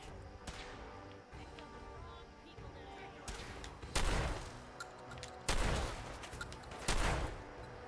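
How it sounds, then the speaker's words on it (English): Shotgun fire in the video game Fallout 4, heard as several loud broadband blasts spaced a second or two apart over a busy game soundtrack and ambient noise. "It's a shotgun."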